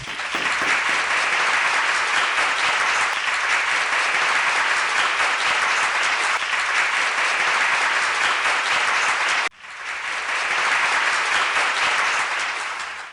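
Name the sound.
audience applause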